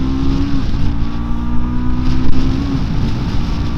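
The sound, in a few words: Triumph Scrambler 400X motorcycle engine revving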